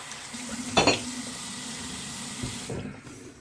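A bathroom tap runs steadily for rinsing after a shave, a constant near hiss of water with a brief louder splash early on, no voices.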